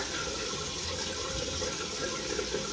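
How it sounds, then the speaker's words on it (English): A household tap runs steadily as a constant broadband rush of water, faint and unbroken, with no voices. "I had the water on."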